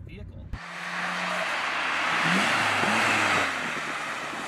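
A Nissan Skyline GTR drives in ordinary traffic, its engine building into a steady, smooth roar after a brief pause, heard from inside the cabin with a person talking.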